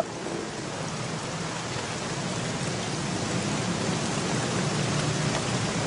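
Steady rain falls across the whole stretch, a dense even hiss of drops hitting the ground with a low rumbling undertone, constant and moderately loud with no voices.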